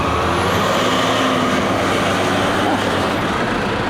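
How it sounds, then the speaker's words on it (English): A garbage truck arrives outside, its steady engine rumble loud and continuous throughout, with no talking over it. "Garbage truck has arrived."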